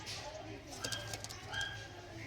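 Pigeons coo faintly and intermittently over a steady low background hum, with a few soft chirps breaking through.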